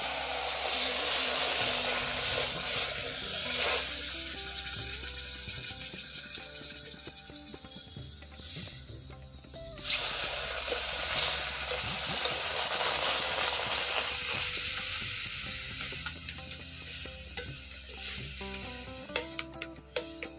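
Water is poured onto semolina already roasted red in a pan and sends up a loud, continuous hissing and bubbling sizzle that rises and falls with a few sharper bursts.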